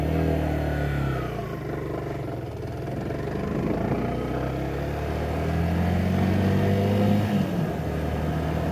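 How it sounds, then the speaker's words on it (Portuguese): A new motorcycle's engine runs close by in Santiago de Veraguas, Panama, idling and revving with rising and falling pitch, while a loose internal part makes a faint clatter under the steady drone. "Como que se tenha alguma coisa solta dentro do motor da moto."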